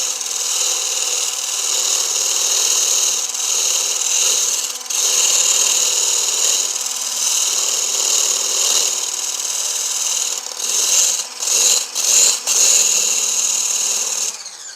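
A stick blender whips two plain egg whites in a container, a steady loud motor whine with a bright rasping edge that holds on, dipping briefly in short gaps near the end, with no talk.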